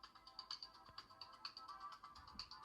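Faint, thin music played through the small built-in speaker of a Fire Boltt Expedition smartwatch, tinny and quiet with light tonal notes, ending in a sudden low thump.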